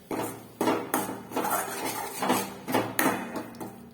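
A spoon clatters and scrapes against a pan while spices and asafoetida are stirred and fried in oil for a mixed cowpea and mung bean dish, with repeated loud metallic knocks and scrapes close up.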